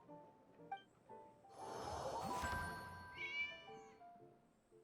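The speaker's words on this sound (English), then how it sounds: "I keep hearing the meow in game and I was confused. I thought it was a cat outside, but no. It's just the game." A cat meows in the Genshin Impact video game, one drawn-out, wavering call that rises and then trails off. It is quiet and close, over faint game music, with no talking.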